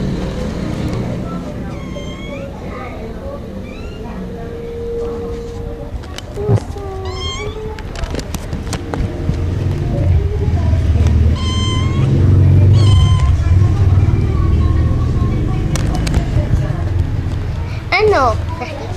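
A cat meows repeatedly, its high, wavering cries rising over lively background chatter and a low, rumbling hum like nearby traffic.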